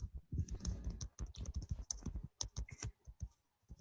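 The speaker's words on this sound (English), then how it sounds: "I hear typing. Somebody's typing in the box" Rapid, uneven clicking of keys on a computer keyboard, close by and fairly quiet, with short pauses between bursts of typing.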